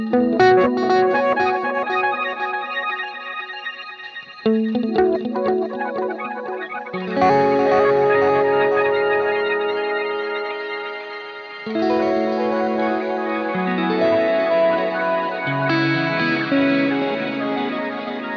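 Guitar played through a Zoom MultiStomp pedal with a smear diffusion effect, lush shimmering chords that bloom and wash together in long sustained swells, loud and alone with no talking.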